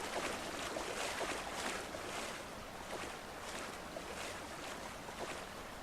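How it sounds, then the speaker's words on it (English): A waterfall in the survival video game Subsistence gives off a constant broad rushing roar, steady and moderately loud, with soft surging swells and no talking. "here we are at another waterfall"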